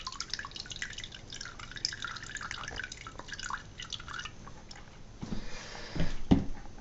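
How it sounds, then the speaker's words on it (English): Pear wine mash drips through cloth, giving soft, steady close drips over a low wet background, with louder handling noises near the end. "let it drip for a while"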